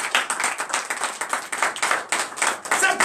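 A church congregation claps for Jesus during a Sunday worship service, giving loud, fairly rhythmic applause close at hand.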